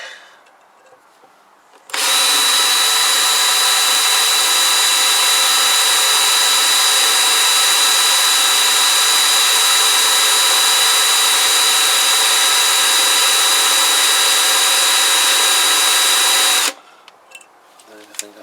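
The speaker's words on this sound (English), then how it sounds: "Drilling." A power drill bores into a Kawasaki GPZ500S engine head, lubricated with engine oil instead of cutting oil. One loud, steady, high-pitched whine runs for about fifteen seconds, starting and stopping abruptly, with quiet room sound on either side.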